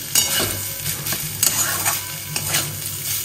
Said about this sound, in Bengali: মশলাটা কষে গেছে, থোড়টা দিয়ে দিলাম, দিয়ে ভালো করে একটু কষিয়ে নেবো থোড়টাকে দিয়ে